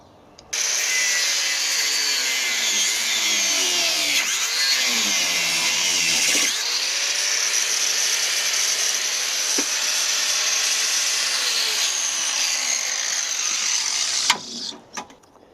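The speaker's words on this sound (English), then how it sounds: "It's ideal for sanding drafts on wood, but I found it's also very effective at removing metal, especially soft metal like brass." Sanding disc grinding soft brass metal at a workbench vise, a loud continuous high-pitched abrasive whine lasting over ten seconds, with shifting pitch as pressure changes and no talk.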